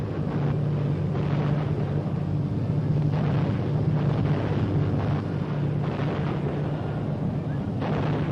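Anti-aircraft guns defending a British convoy at sea in 1943, heard as a dense, continuous rumbling barrage of gunfire over a steady low drone, with no clear separate shots.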